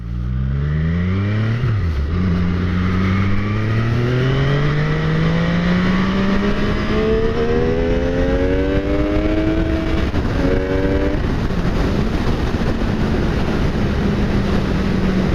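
A 2015 MV Agusta F3 800 motorcycle engine climbs hard through several gears on a twisty back road, pitch rising in long sweeps with brief drops at each shift, loud and close against steady wind rush.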